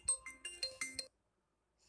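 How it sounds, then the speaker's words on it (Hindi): A phone ringtone for an incoming call plays a short run of bright chiming tones, about six evenly spaced notes, then cuts off into silence before a faint sound returns at the end. "फ़ोन आ गया था"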